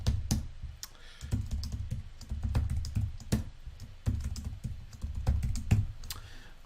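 Rapid, irregular clicking of computer keyboard keys being typed close by, with short pauses between bursts and no voices.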